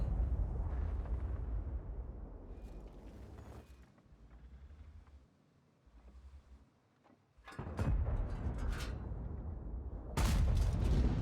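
Obj. 780 tank in World of Tanks: deep engine rumble, a quieter stretch, then a booming cannon blast and another heavy boom near the end.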